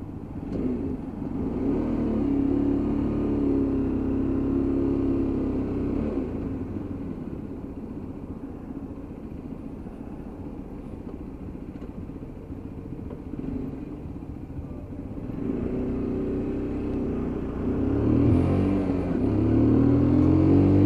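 A Lexmoto LXS motorcycle rides along on the road, its engine making a steady low rumble that eases off mid-ride and rises again as it accelerates, with wind noise throughout.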